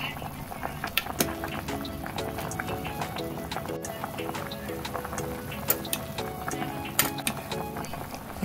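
Pot of young jackfruit and mung bean soup with salt, onion and annatto simmering on the stove, a steady bubbling boil with small pops and drips throughout, with music playing over it.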